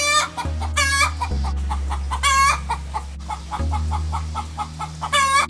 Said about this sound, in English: The chickens are celebrating this victory.